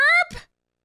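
A single short burp close into a headset microphone, a loud voiced belch that breaks into a rougher, fading gurgle within half a second, followed by silence.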